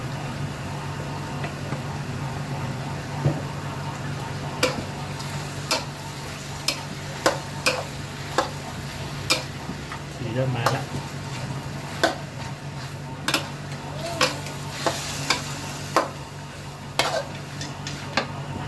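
Pork large intestine being stir-fried for palo stew, a low constant sizzle under a steady hum, with regular sharp clicks of a utensil against the pan, near and unaccompanied by talk.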